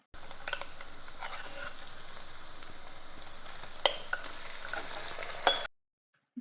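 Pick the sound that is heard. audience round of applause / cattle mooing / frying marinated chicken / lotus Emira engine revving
frying marinated chicken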